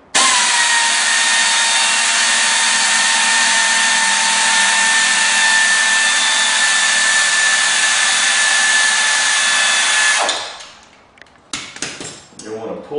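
Shock bolts come off an EZGO TXT golf cart with a 9/16 socket: a loud, steady, high whine runs for about ten seconds, then stops and gives way to metallic clinks and rattling.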